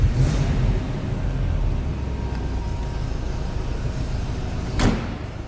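A 1936 Ford Deluxe Tudor sedan street rod has its door shut with a single short thud near the end, heard close against a low steady background rumble.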